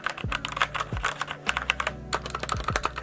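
Quick typing on a mechanical keyboard with red switches, a fast, fairly soft clatter of keystrokes close by, with muted low thuds underneath.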